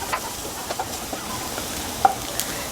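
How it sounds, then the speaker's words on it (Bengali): Garlic frying over high heat for sweet and sour garlic chicken, a faint steady sizzle with a few light stirring taps and clicks from a utensil, briefly heard. "রসুন খুব দ্রুত, আমি কিন্তু হাই হিটে ভাজতেছি"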